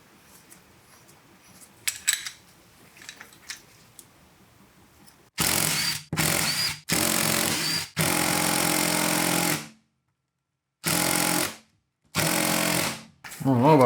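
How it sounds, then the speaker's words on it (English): Impact wrench loosening a bolt during an A/C compressor replacement on a Toyota pickup or 4Runner 3.0 V6, in several loud close bursts of hammering rattle separated by short pauses, after a quiet stretch with faint sounds. "Just need a bigger impact. That one loosened it up."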